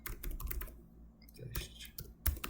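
Computer keyboard typing a Python command, quick close clicking keystrokes in irregular bursts with a brief pause in the middle, fairly quiet.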